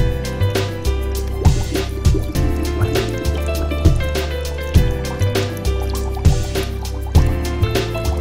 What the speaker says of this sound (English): Then fill water into the bottle.